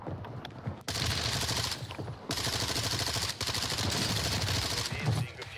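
Rapid bursts of Vaznev SMG fire in a Call of Duty match on Rebirth Island, long sustained volleys broken by brief pauses, with a voice talking at times.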